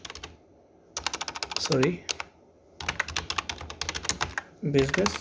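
Computer keyboard keys tap in rapid bursts while a preset name is typed in Photoshop. The bursts are broken by pauses and someone speaks between them.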